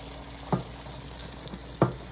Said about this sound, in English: Let these fry.